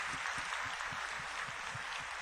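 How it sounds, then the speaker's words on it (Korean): A church congregation at an early-morning service claps steadily for the children who took part, a dense, continuous patter of hands filling the room for a couple of seconds with no voices over it. "한 번만 더 박수하겠습니다"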